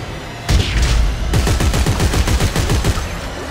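Gunfire in the video game Dead Space 3, a sudden loud burst followed by a rapid, rhythmic string of close, heavy shots that keeps going to the end.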